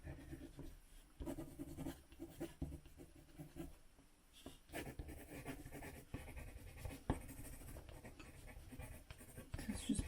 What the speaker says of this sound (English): Now let's add a little bit of darker sort of those pencils